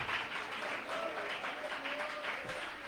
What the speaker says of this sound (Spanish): Dele fuerte ese aplauso de gratitud